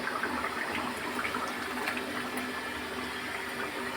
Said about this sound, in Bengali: মাছের ঝোল ফুটে গেছে